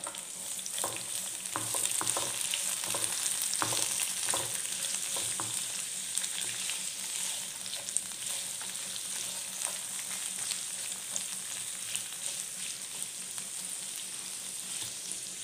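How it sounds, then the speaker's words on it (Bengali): Carrots tipped into garlic already frying in a pan: a steady broadband sizzle with scattered stirring scrapes and clicks, fairly close, no talking. "রসুন হয়ে গেছে, এবার এর মধ্যে আমি কেটে রাখা গাজরগুলো দিয়ে দিচ্ছি।"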